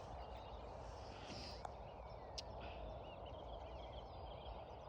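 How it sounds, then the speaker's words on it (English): Steady wind rushes outdoors on a frosty, overcast dawn while birds call faintly and intermittently through the gusts, with no voices. "And that's the wind. And there's a noisy birds going."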